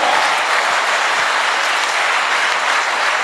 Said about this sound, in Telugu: ఒకసారి జోరుగా క్లాప్స్ ఇద్దామా?